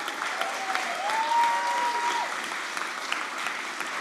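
Audience applause at an A MAZE. award ceremony in Berlin, a steady wash of many hands clapping at moderate volume, with a brief whistle-like tone rising through the middle.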